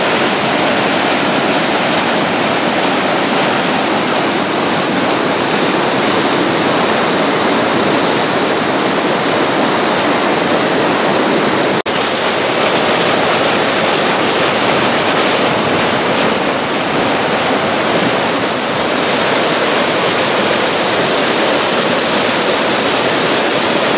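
Water rushes hard through an oval, bathtub-shaped rock basin, making a loud, continuous roaring surge like a small waterfall that stays close and steady for the full length, with no voices.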